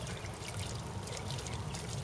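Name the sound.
water from a ram pump pouring onto a water wheel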